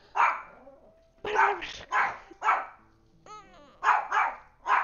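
Dog barking in sharp, loud bursts close by, about seven barks in uneven clusters with a brief whiny, yelping stretch between them; a voice speaks briefly.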